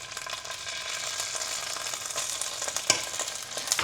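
Onion frying with tomato paste in a pan, a steady close sizzle and crackle with a few sharper pops and a light scrape of stirring, no talking.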